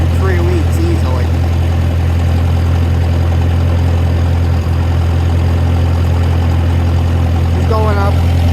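A Ford 620 tractor's big-cylinder engine, cold after three weeks unused, runs with a loud, close, steady low drone, with brief talk at the start and end.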